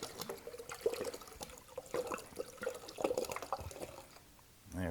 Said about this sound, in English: I'm going to go to the tap over here and just get some plain old city water, 1 bottle.